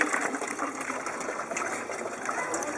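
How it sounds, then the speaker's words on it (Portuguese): Dirty coolant water drains from a loosened lower radiator hose on a Fiat Tipo, a steady close gushing splash running without a break. "eu vou soltar a mangueira lá debaixo do radiador para a gente retirar aquela água suja"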